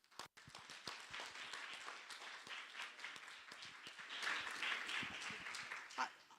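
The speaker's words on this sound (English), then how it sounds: "give a round of applause to Tom" Audience applause for Tom at a community of practice opening event, a dense steady round of many hands clapping that swells in the middle and fades out after about six seconds.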